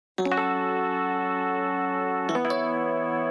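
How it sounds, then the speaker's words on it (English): A Yamaha Reface electric piano with parallel distortion sounds a held chord, then a second chord enters, both sustained and loud with a bright, buzzy edge, no voices. "And this is a combination of an electric piano off of my Yamaha Reface"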